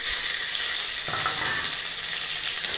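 Onions sautéing in hot oil for a tamarind curry with broad beans, a continuous bright hiss and crackle of frying, loud and close with no talk.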